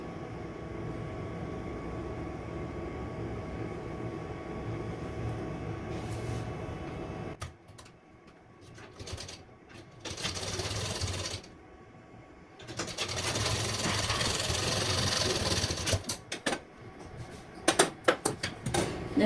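A sewing machine stitches a rough hem on a princess-cut blouse, running in steady whirring bursts that stop and restart with brief pauses and clicks, close up and without talk.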